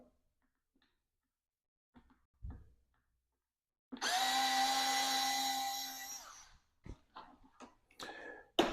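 Power drill backing bolts out of golf cart brackets: a loud, high whirring run of about two seconds, close by, followed by scattered clicks and clatter of parts being handled.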